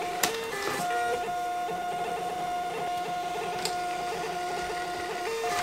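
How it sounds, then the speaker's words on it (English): A Dymo label printer runs steadily as it prints labels, a close, continuous mechanical whir with a sustained tone and small shifts in pitch, heard alone without talk. "I'm gonna hook my printer up with this, my trusty Dymo label printer."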